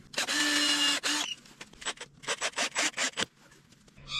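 Screw driven into a board with a power drill while building a small concrete bench at home: a sustained buzzing whir, then a rapid series of short drill bursts, close and fairly loud, with no talk.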